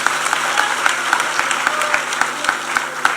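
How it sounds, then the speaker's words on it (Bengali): A large audience at a political gathering applauds Suprabhat Biswas with dense, sustained clapping, loud and close throughout, with faint crowd murmur beneath. "সুপ্রভাত বিশ্বাস জোরে একটা হাততালি"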